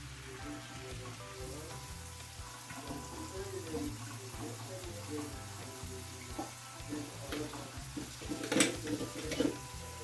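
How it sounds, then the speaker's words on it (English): Tap water running steadily into a kitchen container for soaking unpeeled potatoes, a continuous moderate splashing flow with a brief louder burst near the end. "I'm going to catch water in here"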